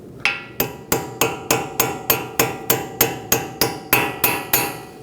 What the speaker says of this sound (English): Use a little hammer and just tap it.